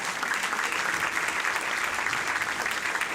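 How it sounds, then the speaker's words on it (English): Steady, dense applause from a school audience after a jazz band member is introduced at a primary school jazz concert, continuous and even throughout. "Please give him a round of applause."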